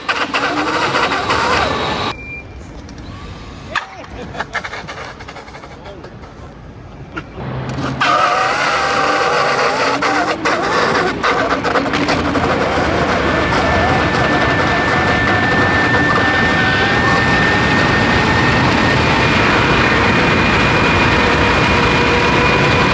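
A KING GTR electric scooter accelerates hard toward 69 mph, with a quieter start and then a loud, sustained roar of wind and motor whine that builds steadily to the end, and no talk.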